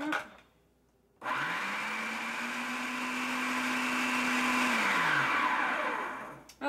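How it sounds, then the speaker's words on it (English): A blender whirs steadily for about three and a half seconds as it mixes avocado semifreddo ingredients, its motor pitch rising at start-up and winding down at the end, loud and close with no talking. "Let's go blend again."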